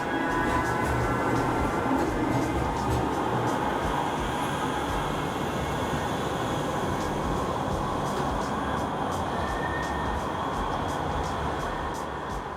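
A Manchester Metrolink tram runs between city-centre stops toward Shude Hill, giving a steady, loud rolling rumble with a faint high whine that holds evenly throughout, with no talking.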